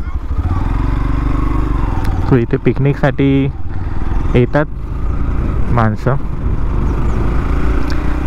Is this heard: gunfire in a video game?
no